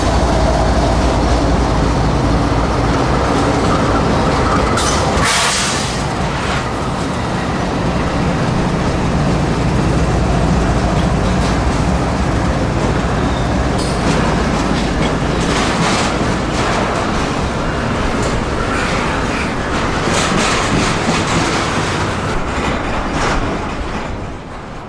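CSX Q026, a Jacksonville to Chicago hotshot intermodal freight train, passes close by in Decatur, Alabama with a loud continuous rumble and rhythmic clickety-clack of wheels over rail joints that lasts the whole time without letting up.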